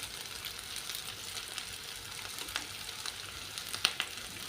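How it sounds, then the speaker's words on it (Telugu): A tomato and egg curry base fries in a pan, producing a quiet, steady sizzle with faint crackles and a couple of small clicks toward the end, no speech. "దీన్ని కూడా ఎర్రగా వేగేలాగా దగ్గర పడేలాగా చేసుకోవాలి."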